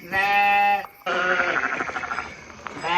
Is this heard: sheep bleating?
yes